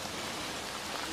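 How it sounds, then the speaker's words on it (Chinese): Heavy rain pouring steadily during a downpour in rural fields on the way back from Laos, a dense, even wash of drops filling the whole brief stretch with no voices. "这下暴雨，越下越大。"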